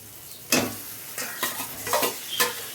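Marinated chicken pieces fry in a spiced masala in a pan, with a low sizzle under four sharp scraping stirs spaced about half a second apart, close by, no voices.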